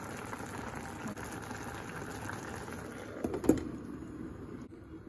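Paksiw na isda, fish simmering in vinegar in a pot, gives a steady close bubbling and sizzling hiss that carries on without a break, with one brief sharper pop partway through and no voices.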